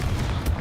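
A Confringo blasting spell explodes in Hogwarts Legacy, a short, dense rumbling boom with a brief burst of crackle partway through, loud and close, lasting under a second.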